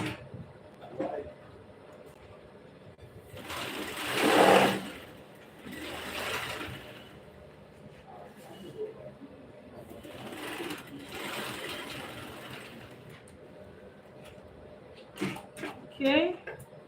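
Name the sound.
sewing machine stitching a pocket seam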